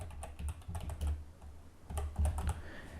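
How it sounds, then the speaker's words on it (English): Keys clatter on a computer keyboard in two quick bursts of close, crisp typing separated by a short pause, with no voices. "Now just hit Ctrl+Shift+P to show this search form and type in screenshot."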